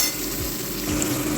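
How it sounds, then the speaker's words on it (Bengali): Onion and garlic fry in hot oil in a pan for a dahi tadka, a close, dense, steady sizzle with faint stirring scrapes underneath. "পেঁয়াজ রসুনটা একটু ভালো করে ভেজে নিই আমরা"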